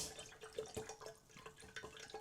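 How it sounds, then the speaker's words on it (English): Water trickles and drips into a flower vase from a tap, an uneven splashing run with small droplet plinks, fairly close and alone with no talk. "I generally just like to add a little bit of water first"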